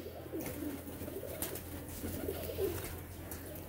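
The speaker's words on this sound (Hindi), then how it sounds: "देखे जी टेडी कबूतर है ये" Tedi golden pigeons coo softly and repeatedly, low murmuring calls rising and falling close by over a steady background hum, with no voices.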